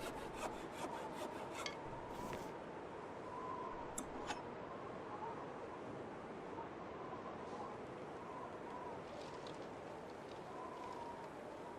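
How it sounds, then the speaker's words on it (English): A hacksaw works steadily through material in The Long Dark survival video game, a faint, continuous rasping scrape with no pauses, quiet and fairly distant. "Let's just drop the hatchet. Force use of the hacksaw."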